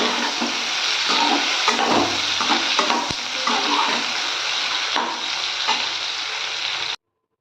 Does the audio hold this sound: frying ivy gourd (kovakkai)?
yes